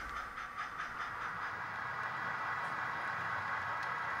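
An HO scale model Southern Pacific locomotive moving up to couple to the rear of a train on a club layout, a steady hissing, rumbling run with faint rhythmic clicks early on and no talk.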